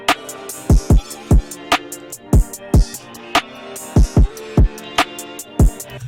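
A layered hi-hat beat with randomized velocity programmed in FL Studio, with crisp ticking hats of uneven loudness riding over punchy, booming kick hits in a steady, bouncy groove, with no voices.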